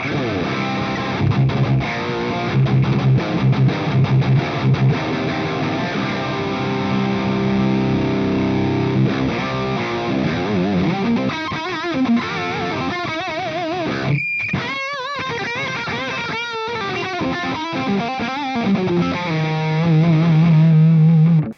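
Heavily distorted electric guitar through a Splawn Nitro high-gain tube amp with gain at noon, playing chugging riffs and chords, loud and sustained, with sharp stops and ringing notes.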